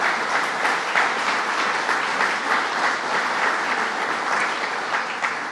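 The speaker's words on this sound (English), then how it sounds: "let's give them a round of applause" A crowd at a governor's announcement at eHealth Technologies applauds its guests, an even, continuous wash of many hands clapping that holds steady the whole time.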